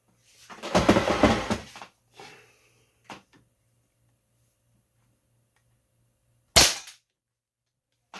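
A single sharp, snappy shot from a detuned nitro piston air rifle in .22 calibre rings out after a stretch of quiet, preceded by some brief handling noises and a clicky rattle.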